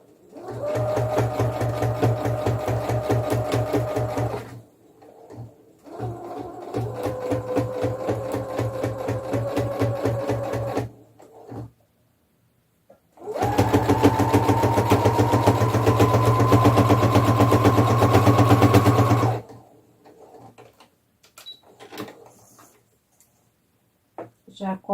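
Sewing machine stitching a seam close to a fabric join on rag doll pajamas, running slowly in three long bursts of steady motor whir with short pauses between, close and loud.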